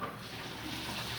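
A household tap runs in a steady, soft, continuous stream while dishes are washed at home, faint and close with no voices.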